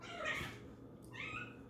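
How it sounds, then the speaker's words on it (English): A cat meows twice, a drawn-out cry followed by a shorter one, fairly close and moderately loud. "y'all hear that cat?"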